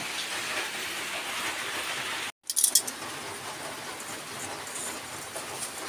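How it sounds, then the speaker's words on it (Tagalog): Steady hiss of rain falls continuously, briefly cut off by a short gap and a few clattering knocks, then resuming. "Maulan na naman."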